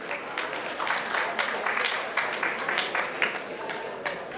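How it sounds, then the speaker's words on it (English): Wedding reception audience clapping steadily throughout, a dense moderately loud patter of many hands with a few sharper peaks, no talk over it. "Claps, people."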